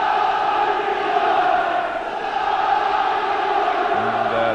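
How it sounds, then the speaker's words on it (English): Football crowd at an FA Cup fifth-round tie between Bolton Wanderers and Aston Villa, roaring and urging Bolton forward at a free kick; a dense, steady crowd roar with a commentator talking over it. "And the crowd urging Bolton forward."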